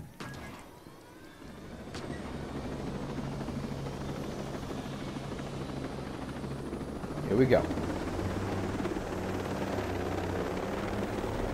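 Helicopter in the video game Ghost Recon Breakpoint, with a steady droning rotor and engine roar that holds loud and even throughout. It swells briefly near the end, and someone speaks a few words at the start.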